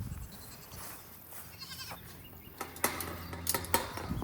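Goats on a farm bleat in short bursts near a gate, with several calls clustering toward the end over low outdoor rumble.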